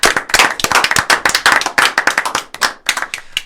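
Several people clap together in a quick, dense burst of applause, loud and close, with sharp irregular hand claps packed tightly and a brief lull near the end.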